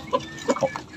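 A Japanese Shamo hen brooding a clutch of eggs gives several soft, low clucks at close range, spaced irregularly over a short moment.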